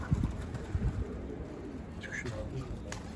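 Pigeons coo and shuffle about in a loft, the soft low cooing close by over a rustling background.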